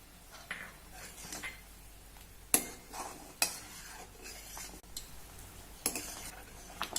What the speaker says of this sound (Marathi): हे बघा टोमॅटो साराला अगदी व्यवस्थित उकळी आली आहे